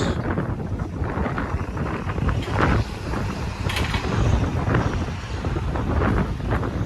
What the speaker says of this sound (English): Sorry guys, it's windy today